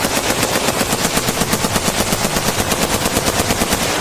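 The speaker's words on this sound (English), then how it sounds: "The helicopter's automatic gunfire erupts." Rapid automatic gunfire from a helicopter-mounted gun, a loud, continuous burst of evenly spaced shots with no pauses, aimed at a giant anaconda.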